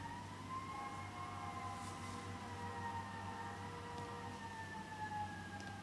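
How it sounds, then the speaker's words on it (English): A distant siren wails in long, slowly shifting tones over a low steady rumble, faint and continuous throughout. "Now I got a siren going here."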